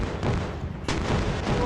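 A military tank in the driving game Indian Bikes Driving 3D fires shells, producing dense, rumbling blasts with a sharp fresh boom midway, loud and continuous against heavy low-end noise.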